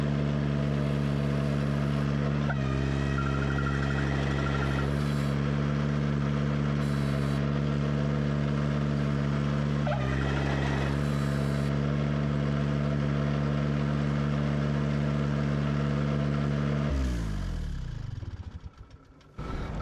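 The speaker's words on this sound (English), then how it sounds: "let's go see how it does with the tractor running and see if we can get it to engage and disengage properly" A Ventrac 4500Z tractor with an Aera-vator EA600 attached runs at a steady, constant drone for a long stretch, with a few brief clunks along the way, before the engine winds down near the end.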